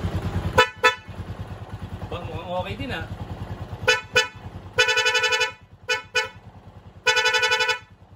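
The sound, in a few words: dual vehicle horn honking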